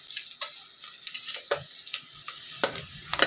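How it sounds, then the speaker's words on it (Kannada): Onion with turmeric powder fries in a pan, giving a soft continuous sizzle broken by a few sharp scrapes and taps of a spoon stirring, close by and with no talking. "ಸ್ವಲ್ಪ ಈರುಳ್ಳಿ ಚೆನ್ನಾಗಿ ಫ್ರೈ ಆದಮೇಲೆ ಅಲ್ಲಿರೋ ತರಕಾರಿನೆಲ್ಲ ಹಾಕಬೇಕು"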